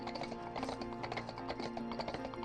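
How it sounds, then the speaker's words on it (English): A horse's hooves pound steadily along a road in a continuous, dense clip-clop rhythm, loud and close throughout. "the thunderous pounding of hooves growing even louder"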